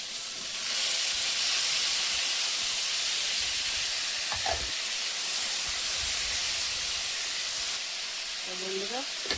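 Spices crackle and sizzle in hot oil left over from frying fish in a pan, a loud steady hiss that holds throughout, with a brief clatter near the end.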